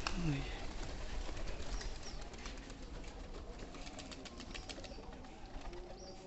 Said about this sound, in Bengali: ওই যে দেখেন ডাক, কবুতরের অসাধারণ অসাধারণ ডাক।